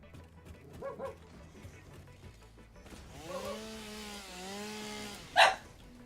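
A chainsaw cuts a tree in the video game Satisfactory. It revs into a steady, droning buzz midway through, then a sharp thump sounds near the end, after quieter earlier sounds.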